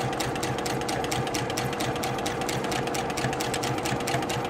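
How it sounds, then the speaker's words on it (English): A sewing machine stitches a quilt-as-you-go block in a steady, continuous run, its needle ticking in a fast even rhythm close up with no talking. "I'm just going to go ahead and sew, make sure that I'm making as straight a line as possible."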